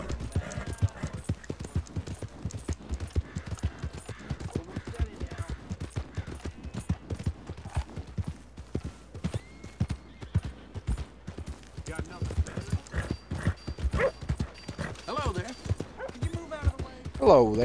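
A horse galloping in Red Dead Redemption 2, its hooves drumming in a fast, steady clip-clop that runs throughout, with voices talking over it at times.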